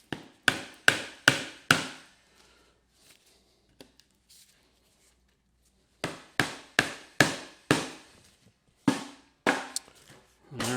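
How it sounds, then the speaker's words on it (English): A rubber mallet taps wooden reindeer pieces into drilled holes, sounding as sharp, dull knocks in two rapid bursts of four or five blows each, separated by a quiet pause. "we'll just tap them in with a rubber mallet or whatever you've got handy"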